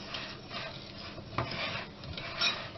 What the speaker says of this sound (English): if you've got granulated sugar, then use that, and just whisk that in